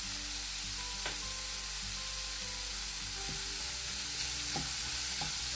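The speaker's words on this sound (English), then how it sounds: "Cook the tomatoes till it becomes soft" Chopped tomatoes with turmeric powder frying in a pan for roasted eggplant curry, a steady close sizzle with a few sharp stirring scrapes and clicks, no talking.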